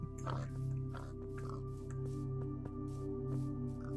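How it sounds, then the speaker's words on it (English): Minecraft pigs oinking softly at a distance, a few short grunts scattered over a steady game background hum, with a calm voice talking quietly. "Yeah, some cute pigs here."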